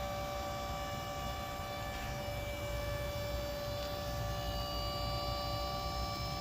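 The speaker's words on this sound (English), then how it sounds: "So the sound of the pump is very different from the other machine that I ever owned." The pump of a VBM Domobar Super Elettronica, an Italian dual-boiler pressure-profiling espresso machine, gives off a steady, even, tonal electric hum with strong overtones, running close and continuously without change.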